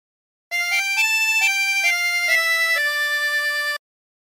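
Harmonica plays a short phrase of O Canada as a series of sustained, reedy notes stepping up and down, loud and close, alone with no talk.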